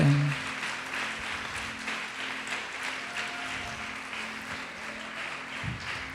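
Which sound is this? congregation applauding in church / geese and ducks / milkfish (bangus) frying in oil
congregation applauding in church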